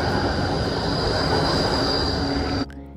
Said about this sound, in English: It runs on rails like a train and travels on our roads and streets